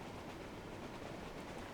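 A train in the video game Transport Fever 2 rumbles along steadily, a quiet continuous rolling drone without distinct clacks and with no talk over it.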